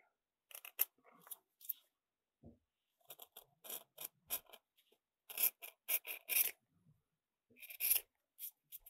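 Leather being trimmed for a strop, with crisp, rapid snipping cuts in quick irregular bursts, close and fairly quiet against a silent background.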